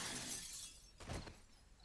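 Glass shattering in the video game 7 Days to Die, a bright crash of breaking glass followed by a second short burst of fragments, faint and heard alone.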